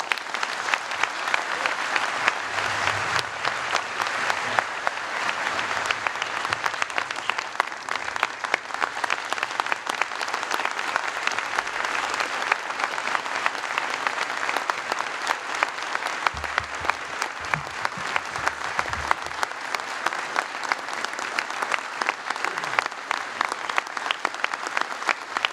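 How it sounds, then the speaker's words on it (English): Sustained, loud applause from an audience giving a standing ovation at a university presidential inauguration ceremony, dense clapping filling the whole stretch without a break and with no talk over it. "Last time somebody stood this long to clap for me"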